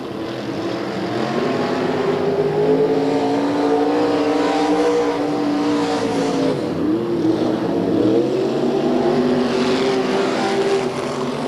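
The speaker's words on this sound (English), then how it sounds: "Also in the lineup, the white number 4 car, that is Alan Updike" USAC Western States midget race cars lapping a track at Bakersfield in 1996, a loud, continuous engine drone with pitch rising and falling as cars pass close by, no voices.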